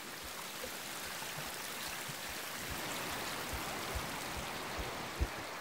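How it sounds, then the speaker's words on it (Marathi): Steady falling water rushes continuously from start to end, a broad even wash like a small waterfall or stream, moderately loud with faint low thumps and no voices. "आणि तुम्ही ना पाण्याचा पडण्याचा आवाज ऐका."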